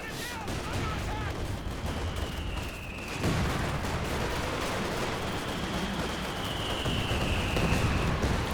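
Katyusha rocket artillery and MG34 machine-gun fire in a video game form a dense, continuous roar of distant gunfire and blasts, with a whooshing rocket streak and a heavier thump partway through.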